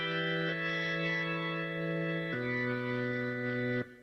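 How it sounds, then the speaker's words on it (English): A sustained synth-like instrument note runs through a distortion pedal turned up, giving a buzzy, raspy, harmonically dense tone that shifts to a lower pitch midway, plays alone and cuts off near the end. "I can turn the distortion up."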